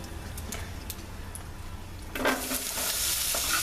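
Potatoes thrown into hot sausage grease in a pan for a hearty breakfast: a quiet ticking stir gives way to a sudden, louder, sustained sizzle and crackle, up close.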